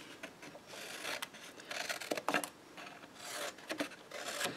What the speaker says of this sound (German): Und schneide das hier auch noch ab